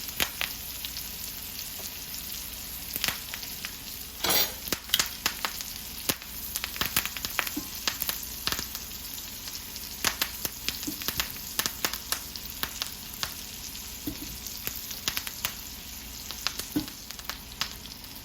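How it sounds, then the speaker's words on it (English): Thyme sizzles steadily in a hot skillet, with frequent sharp pops and crackles scattered throughout, close by and fairly quiet. "The thyme is going to sizzle and pop a little bit on you."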